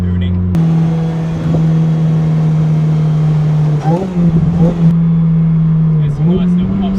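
A loud car engine holds a steady, throaty drone, with sharp blips of revving and a few crisp pops and bangs from the exhaust close by.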